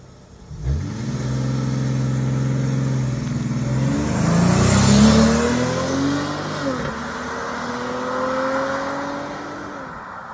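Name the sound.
all-wheel drive car launch control acceleration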